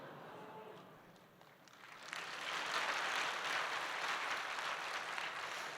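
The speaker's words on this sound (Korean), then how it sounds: "돈 얘기를 해야지만 박수가 나와요." A church congregation breaks into applause partway through, a soft, distant wash of clapping that rises and holds steady after a quiet start.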